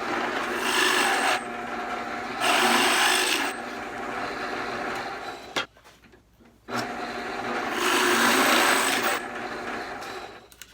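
Drill press with a 1.25 inch spade bit boring holes into wood for a kitchen box, with repeated loud grinding passes of a few seconds each, separated by quieter pauses.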